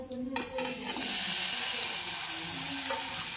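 Chopped tomatoes go into a pan of hot onions and soybean paste in a home kitchen, starting with a clatter and then settling into a loud, steady frying sizzle.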